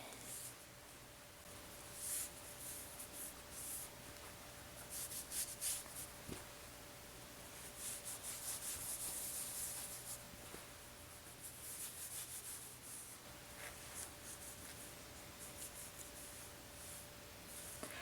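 Viva paper towel rubbed over buttercream icing on a carved boot-shaped cake, producing soft, steady scraping and rustling strokes, close and quiet over a faint steady hum.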